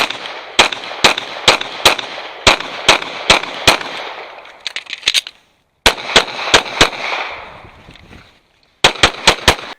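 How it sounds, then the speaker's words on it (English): Rapid pistol gunfire at targets cracks out in loud, close bursts of evenly spaced shots, about six to eight per string, separated by short pauses and echoing decay. "applying the correct rate of fire, the correct speed, to land the fastest accurate hits possible"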